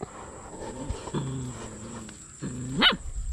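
A dog gives a few separate barks, one sharp yelp near the end, against quiet outdoor background noise.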